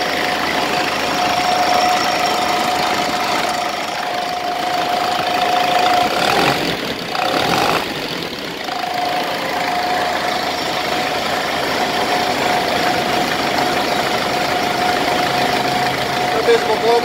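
A Cummins 4BT diesel engine idles with a steady, low knocking rumble, running continuously and fairly close, with a brief dip in the noise partway through.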